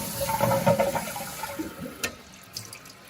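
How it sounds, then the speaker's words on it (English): A household toilet is flushed after a plumbing repair, giving a loud rushing gush of water that tapers into gurgling refill flow and faint trickles, close by, with no talking. "give this bad boy a flush."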